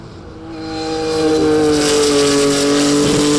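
A modern car in a Top of the Hill Challenge hill climb race approaches with a rising engine drone, swelling from faint to loud and holding a strong steady tone as it passes near.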